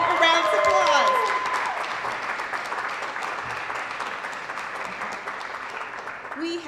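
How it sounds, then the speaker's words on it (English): College auditorium audience breaking into a steady round of applause, many hands clapping continuously and fading slightly, after a speaker's voice at the start. "Give it a round of applause."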